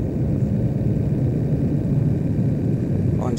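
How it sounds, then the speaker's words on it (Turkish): Distant military aircraft departing Incirlik air base during the 1991 Gulf War, a low, steady engine rumble rolling on without pause, moderately loud and unaccompanied by speech. "Evet, İncirlik'ten kalkan uçaklar."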